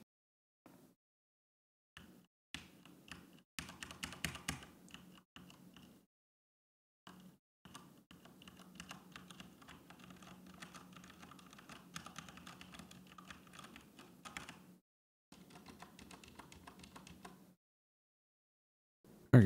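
Bursts of typing on a Corsair K70 mechanical keyboard, rapid close clacky keystrokes in runs of several seconds separated by short silent pauses, with no talking.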